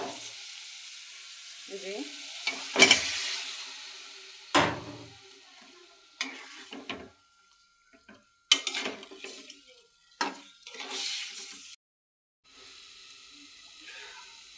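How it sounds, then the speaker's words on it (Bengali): Loitta fish is stirred with tomatoes and spices in a pan, giving repeated scraping clatters and bursts of sizzling at an uneven rhythm, close up, with a few brief quiet gaps and a voice talking faintly now and then. "এবার টমেটো দিয়ে দিছি একসাথে, দিয়ে আমি ভালো করে নেড়ে ছেড়ে নিছি"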